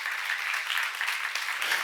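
A church congregation claps during a sermon, a brief, even wash of applause that is soft and somewhat distant, heard on its own without speech.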